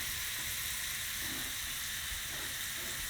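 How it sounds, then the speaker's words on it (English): Mushrooms and shallots hitting a hot pan over medium-high heat give off a steady, even sizzle and hiss, quiet and unbroken throughout. "You're going to stop there and start adding your mushrooms and your shallots."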